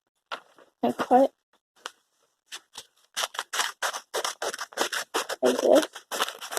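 Scissors snip through folded paper while an origami dog is made, in a quick run of crisp, close cuts after a few isolated snips, with no talk over them.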